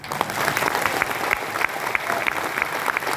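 Audience applause at a Vestige seminar, a steady wash of many hands clapping with a few sharper individual claps standing out, sustained at even loudness throughout.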